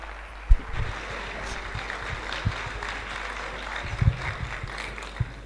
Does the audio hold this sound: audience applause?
yes